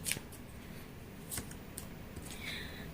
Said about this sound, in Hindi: चलिए थर्ड पार्टी के लिए कार्ड निकालते हैं।